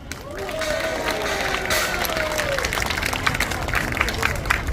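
A crowd at an outdoor marine veterans' rally near the National Assembly claps steadily, a dense, sustained wash of applause with a voice over it at the start.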